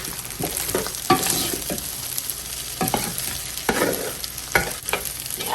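Beef fried rice tossed and folded in a pan, soft steady frying hiss under irregular scrapes and thumps of a spatula turning the rice over, close and moderately loud.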